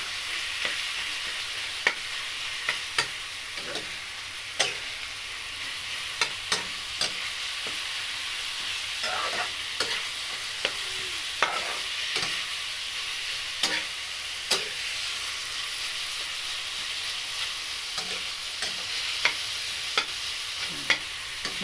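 Ground meat being stirred as it fries in a pan for okra adobo, a steady low sizzle broken by sharp scraping and tapping strokes of a utensil at irregular intervals, nearby and without talk.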